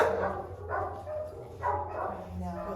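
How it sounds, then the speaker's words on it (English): Dogs at an animal shelter give a few medium-loud barks and yips amid reverberant kennel noise, while someone talks over them. "You don't gotta bark for them."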